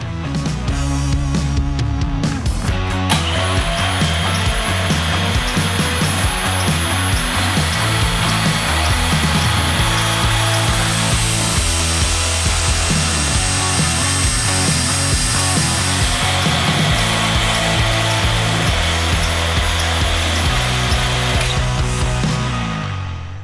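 Portaband portable bandsaw set up as a vertical bandsaw making cuts, a loud continuous motor whine with a rough grinding blade sound that holds steady for most of the stretch, close by with no talk.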